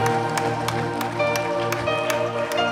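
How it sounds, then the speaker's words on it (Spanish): Congregation clapping hard in a church as a tribute to Jesus Christ, with regular rhythmic claps over sustained organ or keyboard music, loud and steady throughout. "Podemos darle un aplauso a Cristo Jesús bien fuerte."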